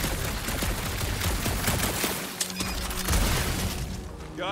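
Gunfire rattles in rapid bursts at a large contraption in the Guardians of the Galaxy video game, a dense continuous barrage with crunching impacts and a metallic clank, loud and close with no talking.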